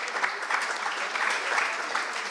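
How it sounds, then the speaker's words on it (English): Audience applause at a book launch during a literary festival, a steady sustained wash of clapping from a seated crowd lasting throughout, moderately loud and even. "a round of applause for our audience as well"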